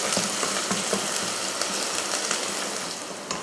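Small onions sauté steadily in a pan as part of a mutton curry, giving a continuous close sizzle with occasional crackles and stirring clicks, and no talking.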